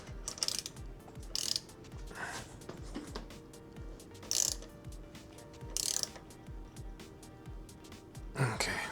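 Ratcheting and clicking of a wrench tightening the wheel nuts on a Velotric Fold 1 Lite folding e-bike during assembly, in short bursts of metallic clicks with pauses, close and moderately loud.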